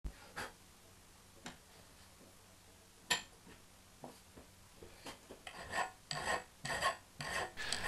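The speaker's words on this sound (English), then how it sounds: "After roughing the rise and fall rail, the material had hardened a little, so the initial filing was pretty tough going." A hand file rasps across a steel rise-and-fall rail for a drill sharpener, the metal hardened after angle-grinder roughing; scattered single strokes at first, then a quicker run of harsh, close strokes.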